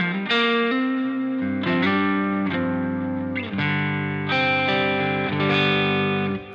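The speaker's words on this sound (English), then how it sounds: "they are really modern type of reverb and delay" Electric guitar run through the reverb and delay of a Neural DSP Archetype Rabea plugin, played as sustained, distorted chords that swell and linger in long washy tails, each new chord blooming over the fading last, loud and close with no talk.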